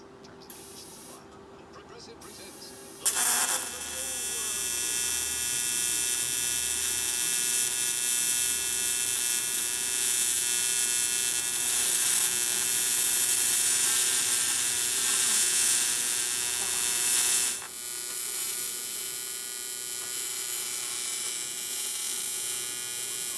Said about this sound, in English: I'm gonna go ahead and change my cups here for aluminum, which I use a 6W with a 3/32, and then do this beforehand AC, and then let's get to welding.